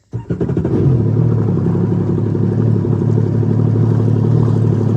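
A 1-liter three-cylinder engine in a Jeep cranks and catches, then settles into a loud, steady, slightly chattery idle heard up close with no talking.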